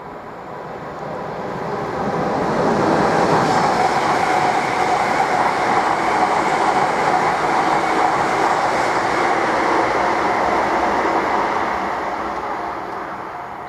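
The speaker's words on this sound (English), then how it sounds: "The next train at platform 5 does not stop here." A train rumbles through a station without stopping at Tring, swelling in from a distance, holding a loud roar for several seconds, then fading slightly as it passes.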